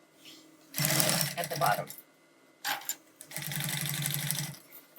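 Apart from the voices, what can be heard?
sewing machine stitching laminated cotton seam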